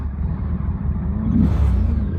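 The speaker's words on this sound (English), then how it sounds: "The red car coming down now." A red car coming down a mountain road, its engine rumbling steadily and swelling slightly as it draws nearer, heard close and alone with no talk.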